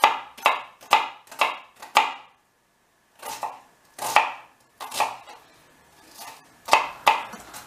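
A knife finely chops an onion briskly on a cutting board, sharp repeated knocks in quick bursts with a short pause in the middle, close and clear.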